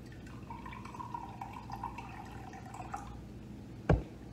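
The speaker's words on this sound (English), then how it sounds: "And again, pour slowly over the ice." Water pours slowly over ice in a glass, a soft steady trickle with faint dripping, ending in a sharp knock near the end.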